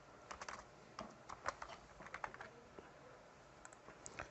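Keys clatter on a computer keyboard in quick, uneven bursts of clicks with short pauses, close and fairly quiet, with no voices.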